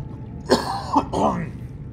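Close coughing and throat clearing from one person, two quick harsh bursts followed by a rougher rasp.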